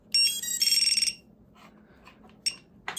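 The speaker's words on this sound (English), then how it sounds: "There's that Finder buzzer beeping up as it should" An FPV quadcopter's finder buzzer sounds a bright burst of rapid electronic beeps, followed by a few short, fainter chirps, close and clear against a quiet background.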